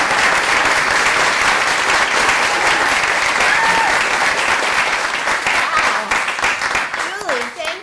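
A conference audience at an arts administration educators' annual meeting breaks into loud, sustained applause welcoming the keynote speaker, steady for several seconds before thinning out near the end, with some voices and cheers mixed in.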